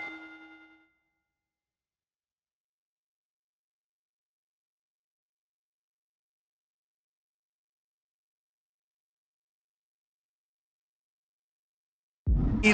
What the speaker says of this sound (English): There's the bell, and Jade Cargill is ready for action.